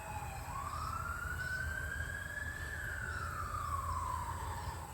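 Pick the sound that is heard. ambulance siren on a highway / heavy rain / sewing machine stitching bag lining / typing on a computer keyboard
ambulance siren on a highway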